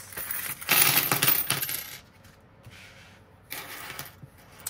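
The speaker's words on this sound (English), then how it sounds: "let's get into these coins." Coins are handled and dropped in clinking bursts, a dense jingling pour followed by quieter rattles and a final short spill, close and fairly loud with no talking.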